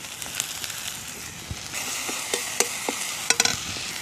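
Eggplant frying with spices in a pan, a soft steady sizzle broken by scattered clicks and scrapes of stirring, fairly quiet and close.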